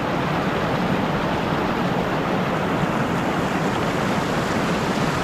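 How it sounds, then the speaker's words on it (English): Floodwater in a swollen creek near a waterfall campground rushes past in a loud, steady broadband roar, continuous and close with no pauses and no voices. "it's a little bit loud, the water rushing past"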